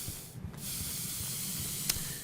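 Steady spray hiss from a spray tool in an indie co-op video game under development runs almost without a break for the whole moment. It is loud and close, with a brief dip near the start and a faint click toward the end.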